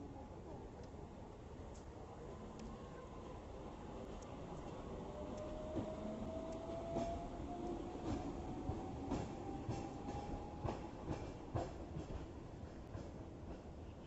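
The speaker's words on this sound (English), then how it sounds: "So this is the tram. Here it comes." A cable-hauled Hong Kong tram pulls in at the Barker Road stop, giving a steady close rumble with a slowly rising mechanical whine and scattered rail clicks. Faint voices sit under the noise.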